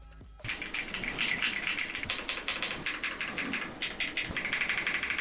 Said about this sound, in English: Got a little clicky there